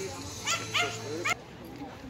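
A dog being played with by a tattooed man in a park makes a few short yips and whimpers, three brief bursts in about two seconds, heard at moderate distance over steady background noise and faint talk.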